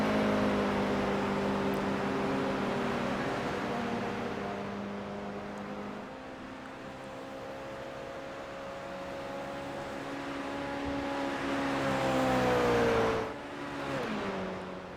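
Engines of GR86 race cars in a racing video game at Daytona, a steady sustained drone with gently rising and falling pitch, swelling louder and shifting sharply near the end as cars close in.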